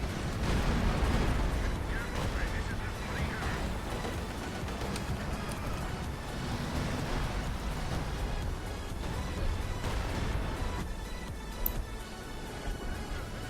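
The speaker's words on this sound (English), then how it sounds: "Is that enemy barrages or ours?" An artillery barrage rumbles across a Company of Heroes 2 battlefield, with dense, continuous booming and crackling explosions that fill the whole stretch while voices talk over them.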